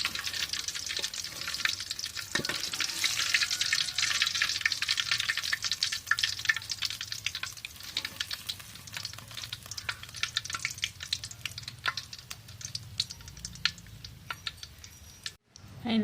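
Fish frying in a pan of oil, a steady close sizzle running throughout, with a few faint clicks and scrapes as pieces are lifted out.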